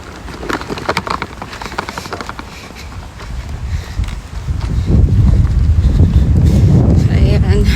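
Steady outdoor wind buffets the microphone during a walk along a street, building from moderate to loud rumbling gusts in the second half, with a person talking over it.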